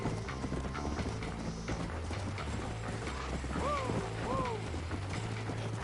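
Horse hooves clip-clop steadily in the Red Dead Redemption video game, a continuous rhythmic trotting under game music with mechanical clicks and a brief whinny-like call near the end.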